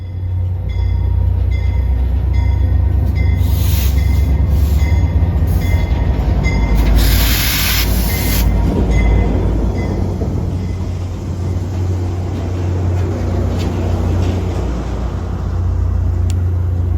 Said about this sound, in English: We have Heritage Corridor train 917 coming out of Western Avenue Yard, going to Union Station and then eventually on further to Joliet, Illinois, with two of Metra's F59 PHs leading